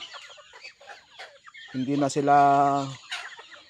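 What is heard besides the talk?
backyard chickens clucking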